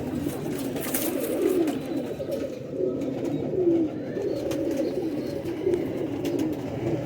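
Rampuri pigeons coo in a low, continuous rolling murmur, several birds overlapping steadily and close by with no talking.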